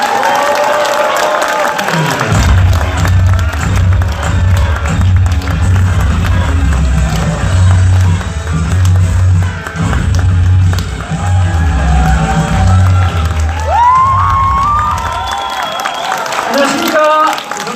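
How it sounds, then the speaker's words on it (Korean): A large audience at a Democratic Party event in Daegu and Gyeongbuk gives sustained, loud applause and cheering to welcome a speaker. Rhythmic clapping and scattered shouts fill the hall, and the noise fades near the end. "큰 박수와 함성으로 맞이해 주시기 바라겠습니다"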